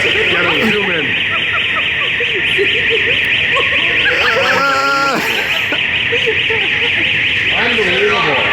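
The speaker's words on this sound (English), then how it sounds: "looks like the electrician's got the alarm going off" A building alarm set off by an electrician at a gym under construction sounds continuously and loudly throughout, a steady high electronic tone with people talking underneath it.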